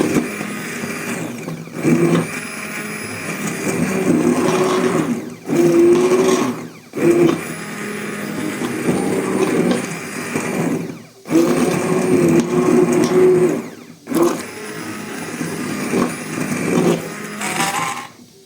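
A blender purees pumpkin, whirring loudly in long bursts, stopping briefly between runs, its motor pitch shifting as the contents churn.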